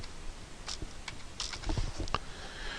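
Someone types a search word on a computer keyboard, producing a short run of light, irregular key clicks close up in a quiet room.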